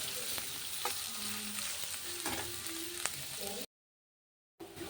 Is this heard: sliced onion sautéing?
yes